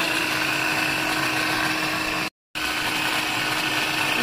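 Spices whirr in an electric grinder, a loud, steady high-pitched drone that cuts out for a brief silent moment, then starts again at the same pitch.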